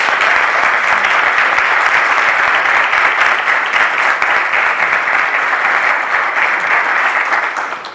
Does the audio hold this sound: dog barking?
no